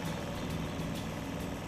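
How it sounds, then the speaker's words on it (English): A GreenMech stump grinder's 21-horsepower Lombardini diesel engine runs in a steady, fairly faint low drone for a brief moment. "The machine being demonstrated here is fitted with the Lombardini diesel engine, rated at 21 horsepower."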